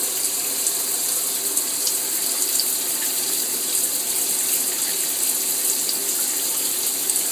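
Shower water runs steadily, a continuous hissing spray from the shower head while a cat drinks from it, with no voices heard.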